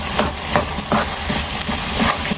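Dates halwa cooks in ghee in a pan, a steady close sizzle with rhythmic scraping strokes of a spoon stirring it, fairly loud and continuous, no voice.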